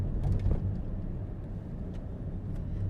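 Low, steady rumble and vibration from a car's cabin while driving on the road, a continuous droning hum with no voices.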